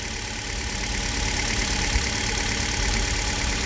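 A Hyundai Solaris engine running on Toyota oil idles steadily up close, a dense continuous mechanical drone with fine rapid ticking and knock throughout, no voices.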